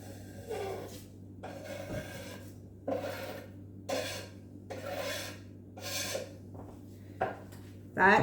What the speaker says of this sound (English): I'll just scrape these into the saucepan now